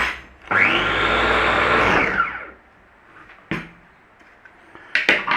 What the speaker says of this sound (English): we want half of that olive oil in there. And we're going to give that a whiz.